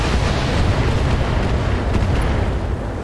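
Gauss rifle fire in the BattleTech mech game, a dense, rumbling blast that roars continuously and loudly for a few seconds with no voices over it.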